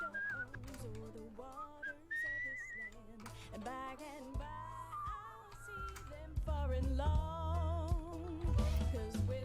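A whistled melody from the video game Where The Water Tastes Like Wine, wavering and continuous over a low musical backing, with no voices.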